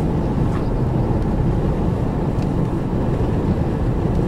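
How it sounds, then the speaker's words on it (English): A 2011–2015 ninth-generation Honda Civic rolls along with rust built up on its front brake rotors, giving a continuous low droning rumble of road and brake noise that stays steady and loud without any speech. "It's actually the rust built up on the rotors is the problem."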